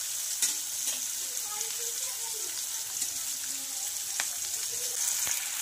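Sambar ingredients fry hard in a pan over high heat, a steady close sizzle with a few sharp stirring clicks scattered through.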